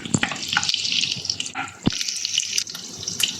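Chopped garlic and sliced green chilies fry in hot oil, giving a continuous close hissing sizzle with small crackles and pops, with no speech.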